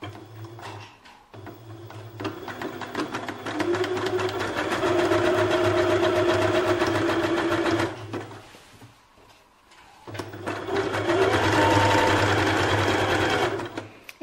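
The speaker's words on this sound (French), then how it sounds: "Et je prends un zigzag classique." A sewing machine runs a classic zigzag stitch while assembling a t-shirt, dress or sweatshirt, its steady mechanical whir going in two close, loud bursts separated by a brief pause, with no talk.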